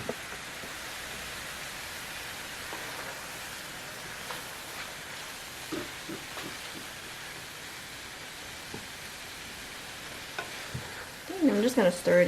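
Kimchi fried rice stirred in a hot pan, a steady low sizzle and frying hiss with soft scrapes and clinks of the utensil throughout, growing louder near the end.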